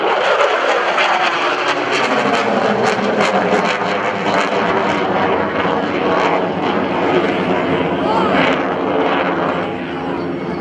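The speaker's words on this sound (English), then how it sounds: "you'll see the Viper's exceptional power and rolling ability as he climbs from 300 feet to" An F-16CJ Fighting Falcon at an Air National Guard airshow in Rhode Island climbs with aileron rolls, its jet engine a loud, steady, close roar that sustains throughout with little variation.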